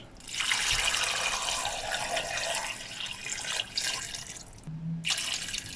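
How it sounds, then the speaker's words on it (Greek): Water pours steadily into a large pot of frozen chicken bones, skin and cartilage for homemade chicken broth. It is a close, continuous splashing rush that stops for a brief moment and then resumes. "Τώρα προσθέτω το νερό μέχρι να καλύψει τα κόκαλά μας."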